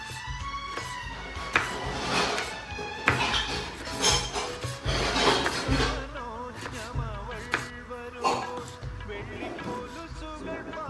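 A knife chops vegetables on a cutting board in a home kitchen, a quick series of sharp taps and thuds in uneven bursts, close up, with some handling and scraping noises between the cuts.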